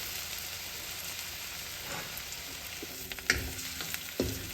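Potatoes frying in sesame oil, a soft steady hiss of sizzling throughout, with a couple of sharper utensil knocks and scrapes near the end, close but fairly quiet.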